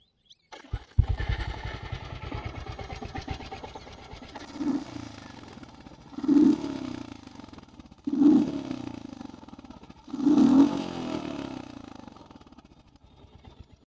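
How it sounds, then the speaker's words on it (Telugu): A Royal Enfield Hunter 350 motorcycle starts up and settles into a steady, thumping idle, then revs four times in brief surges a couple of seconds apart before easing back to idle. "ఈ బైక్ యొక్క ఎగ్జాస్ట్ నోట్ అయితే ఒకసారి విందాం"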